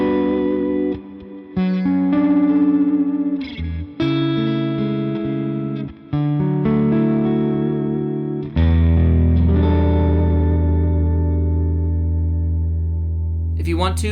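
An electric guitar plays rhythm chords through a Line 6 Helix Dynamic Hall reverb, the chords ringing out with long, washy sustain that swells between strums, loud and close.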